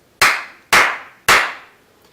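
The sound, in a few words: hands clapping three times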